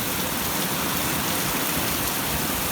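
Steady rain falls on a container garden with fabric pots, a continuous broadband hiss of moderate, unchanging intensity close by, with no voices or other sounds.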